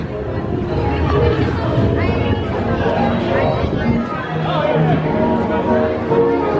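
Dense crowd chatter fills a busy outdoor space, many overlapping voices in a constant murmur, fairly loud and close all around.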